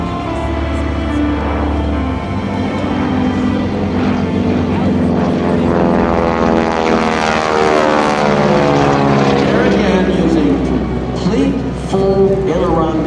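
An AT-6 Texan propeller airplane performs aerobatics at an airshow, its radial engine droning loud and steady throughout with pitch shifting as it passes, while an announcer talks over it.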